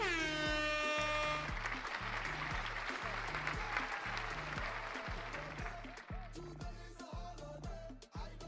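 Sound effects during a soca music live stream: loud blaring air horn blasts at the start, then sustained applause and cheering over a pounding rhythmic beat, with repeated horn hits continuing throughout.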